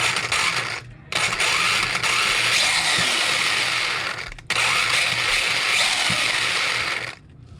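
A rebuilt ECX Circuit 4x4 RC truck differential spins on the bench with a steady, loud whirring grind of small gears and motor, cutting out briefly twice before spinning back up.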